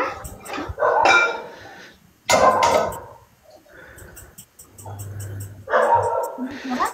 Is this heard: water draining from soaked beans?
no